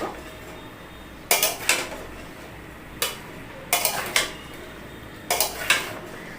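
A spoon stirs onions in ghee in a cooking pot, striking the metal in several sharp clanks and scrapes that come in short clusters over a low, quiet background.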